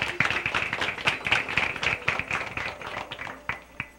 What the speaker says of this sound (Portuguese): Palmas pra Silvia